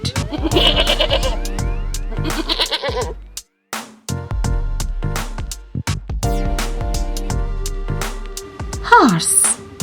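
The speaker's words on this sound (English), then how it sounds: "Goat." A goat bleats in a children's phonics song, a wavering cry near the end over bright music and singing.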